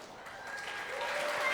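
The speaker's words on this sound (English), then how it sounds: "round of applause" Audience applause rising during a Team USA basketball panel event, soft at first and swelling into steady clapping.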